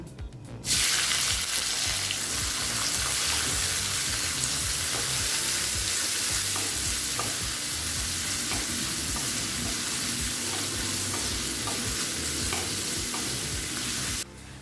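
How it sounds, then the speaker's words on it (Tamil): Sliced onions with cumin sizzle steadily in hot oil for carrot rice while a utensil stirs and scrapes the pan, a continuous loud frying hiss with rhythmic stirring clicks. "வெங்காயம் நல்லா வதங்கிடுச்சு"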